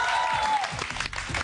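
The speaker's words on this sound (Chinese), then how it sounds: "掌声鼓励一下。" An audience at a televised talk show breaks into applause, a dense patter of many hands clapping at close range, with a whistle-like tone fading out early on.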